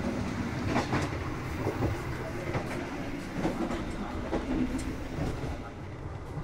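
Argo Muria executive train running on rails near Kedung Gede station on the Jakarta–Semarang line, heard from inside the carriage as a steady rumble with rhythmic wheel clicks over rail joints, continuous and close.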